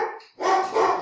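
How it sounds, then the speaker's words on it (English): A dog barks at a ringing doorbell: two quick, close barks in about a second, the second louder and fuller. "That's my dog. Sorry about that."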